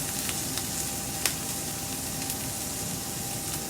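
Sauerkraut fries in hot avocado oil in a pan with a steady, quiet sizzle and crackle that carries on evenly, with a few small pops and spits and no talk.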